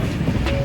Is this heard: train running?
yes